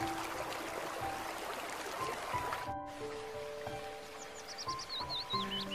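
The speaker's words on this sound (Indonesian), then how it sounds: "Air yang memancar dari sumber sendang ini dialirkan menuju kolam." Spring water gushes through two spouts into a pond at a Catholic prayer garden near Merapi, a steady close rush with faint bird chirps rising near the end and no voices.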